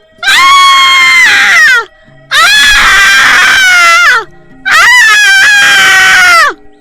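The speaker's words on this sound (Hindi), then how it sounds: "चुड़ैल जोरों से चिल्लाने लगती है।" A witch in a cartoon horror story screams loudly, three long shrill wailing shrieks with short pauses between them, close and piercing, with no talk over them.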